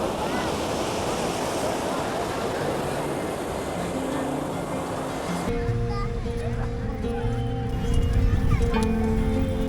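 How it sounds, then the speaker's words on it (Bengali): Steady roaring night surf at crowded Puri beach fills the first half. Then the scene cuts to a calmer backdrop with sustained tonal hums, honk-like notes and faint murmuring. "রাতের বেলা সমুদ্র কীরকম লাগে আপনাদের আমি একটুখানি দেখিয়ে দিচ্ছি এই হলো সমুদ্র"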